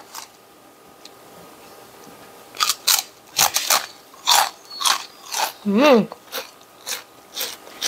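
Crunchy krupuk gendar rice crackers eaten close to the mic: a series of sharp, loud crunching bites and chewing crackles in irregular bursts, with a brief murmured vocal sound in the middle.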